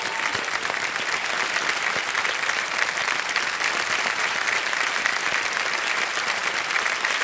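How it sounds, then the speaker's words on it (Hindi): Studio audience on a televised quiz show applauding a contestant who has just quit with her winnings, a dense, loud, continuous wash of clapping holding steady throughout. "तालियां बज जाएं इनके लिए"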